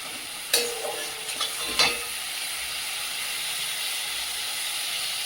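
Ground cumin dropped into spice paste frying in a new wok: a couple of sharp stirring scrapes and a burst of sizzle, then a steady soft hiss of frying continuing alone.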